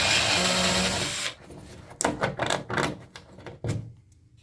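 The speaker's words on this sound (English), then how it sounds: "I might just back those screws out" Screws being backed out of a loose towel rack bracket fixed to a wall with heavy anchors: after a second of broadband noise, a series of short clicking and ratcheting bursts follows, close and moderately loud, with no talking.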